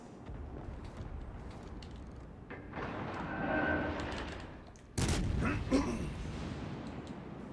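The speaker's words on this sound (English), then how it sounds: "A little blind fire action." Battleship gun salvos in the naval game World of Warships Legends, a series of booming blasts over a low rumbling background, with one heavier report midway, moderately distant and fairly quiet.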